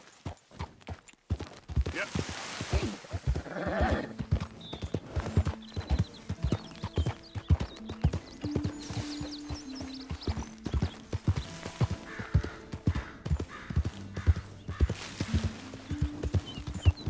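Steady clip-clop of horse hooves trotting at a regular rhythm in Red Dead Redemption 2, fairly quiet, with faint background music and occasional low voices.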